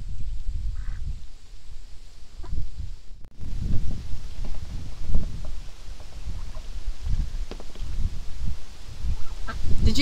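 Ducks and geese honk and quack near a farmyard water trough, repeated irregular calls over a steady low rumble, close and fairly loud with no talking.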